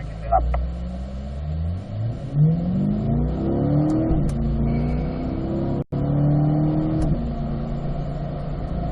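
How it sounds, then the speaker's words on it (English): A car on a track straight accelerates through the gears, its engine pitch climbing in repeated rising sweeps with a short break at a shift. Someone talks over the engine throughout. "just go ahead and keep accelerating down that straight there"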